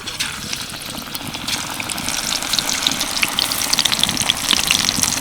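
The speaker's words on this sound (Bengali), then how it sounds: "এবার এগুলোকে ভেজে নেব তার জন্য কড়াইতে দিয়েছি কিছুটা সাদা তেল এবার এক এক করে ভেজে নেব" Steady hissing sizzle of battered raw banana slices frying in hot white oil in a wok, continuous and fairly loud, with faint crackles scattered through it.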